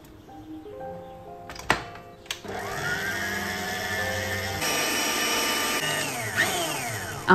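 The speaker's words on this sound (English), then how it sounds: "Here I'm using my stand mixer." A stand mixer blends sugar, oil and eggs for a moist carrot cake batter. After a couple of sharp knocks, a loud, steady motor whine starts and runs on, its pitch stepping up as the speed changes.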